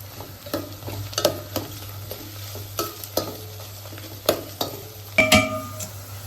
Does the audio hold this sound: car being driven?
no